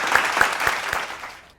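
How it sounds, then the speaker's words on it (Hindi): Applause greets the launch of a televised Indian innovation program, a brief burst of clapping with a few sharper claps standing out before it fades away. "हम सभी मिलकर जोरदार तालियों के साथ"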